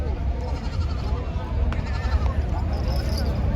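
Goats bleating at a rural goat market in Hingoli district, repeated bleats mixed into a busy crowd murmur, with someone talking close over the animals.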